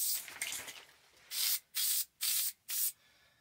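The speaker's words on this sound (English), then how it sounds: "So then I just started kind of spray filling." Faux granite spray paint hisses from an aerosol can onto countertops in a 5th wheel camper, first in uneven sputters, then four steady, evenly spaced bursts with short pauses between.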